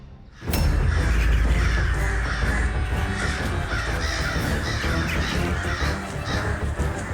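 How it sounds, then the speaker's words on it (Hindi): A large flock of crows near a hillside cave caws loudly and continuously, forming a dense, overlapping din that starts abruptly and fills the whole stretch with no talking. "ये कौवे तो उस पहाड़ी में"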